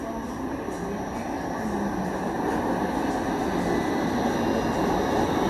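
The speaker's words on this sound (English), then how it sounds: "we have a train arriving now" A Toronto TTC Line 5 Eglinton light rail train rumbles steadily into a station, a broad continuous roar with faint high squealing tones, growing slightly louder as it approaches.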